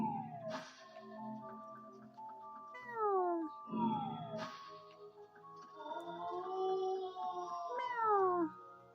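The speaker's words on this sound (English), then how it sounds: "Meow." Cat meows from a cat in the game Zelda Twilight Princess, several drawn-out, falling cries spaced through the stretch, clear and close, with no talking over them.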